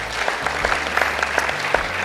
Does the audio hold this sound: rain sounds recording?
no